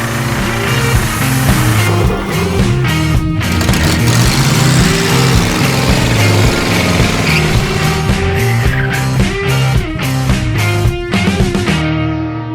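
A John Deere 440 backhoe's long-sitting 253 Detroit supercharged two-stroke diesel is cranked and fired, with a loud, close, busy mechanical clatter and engine roar that fluctuates throughout before cutting off near the end.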